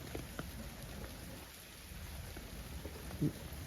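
Steady video game rain hisses continuously, with scattered drops and a soft thump near the end; no talking.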